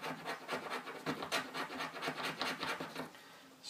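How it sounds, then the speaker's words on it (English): The back of a blade scrapes resinous wood to make tinder filings. The rasping strokes are close and rhythmic, repeating steadily and quietly with no talking. "Scraping it up to get filings."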